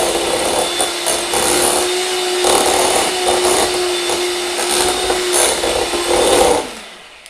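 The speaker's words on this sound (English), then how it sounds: "just a final whisk, get that in" A whisk works through a no-bake lemon and ginger cheesecake mixture after vanilla essence goes in, a loud continuous close scraping and rubbing with faint rhythmic pulses that stops abruptly near the end.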